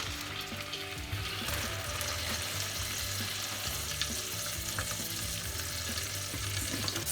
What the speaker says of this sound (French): faire roussir mes diaux dans un peu de beurre